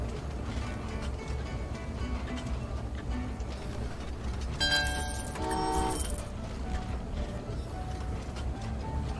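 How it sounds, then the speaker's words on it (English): Train passing by in the video game Train Valley 2, a steady rumbling rolling drone lasting throughout, with a brief burst of bright whistle-like tones near the middle. "One more train to go past."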